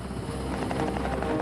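Combat helicopter circling at altitude: a steady rotor thump and engine drone, continuous and fairly loud throughout, with no talk.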